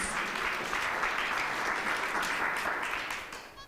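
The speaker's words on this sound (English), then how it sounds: "If we could give her a round of applause." Steady applause from an audience at a panel discussion on women in politics, dense and moderately distant, continuing evenly for a few seconds before easing off.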